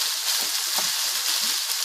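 Steady sizzling and crackling of chicken and onions frying in a hot skillet, with a brief scrape of stirring partway through.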